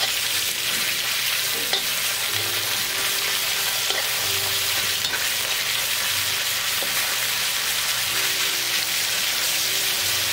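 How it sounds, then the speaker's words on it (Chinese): Minced beef stir-fried in a wok for mapo tofu makes a continuous dense sizzle and crackle, with faint intermittent scraping of the spatula under the frying. "然后把牛肉末倒进去炒翻炒。"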